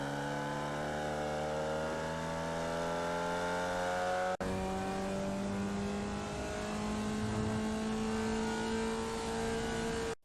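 Formula Vee race car in iRacing at Virginia South, engine note climbing steadily as it accelerates onto the straight, loud and close with smooth rising harmonics, a brief break midway, and no talk.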